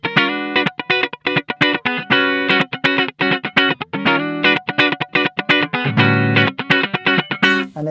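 Electric guitar played through a Fender valve amp into a Torpedo Captor load box with the reverb switched off, giving loud, dry, distorted chords in a quick, choppy rhythm with short gaps, heard alone.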